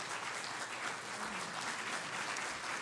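Church congregation gives an offering of applause to God during a sermon, a sustained, even patter of many hands clapping together at moderate level, with no voices over it.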